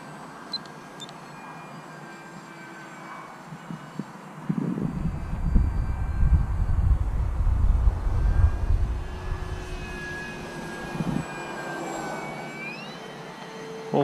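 A battery-powered RC airplane flies at full throttle, its electric motor whine rising into a louder, rushing drone as it passes nearby, then fading back toward a thin distant hum.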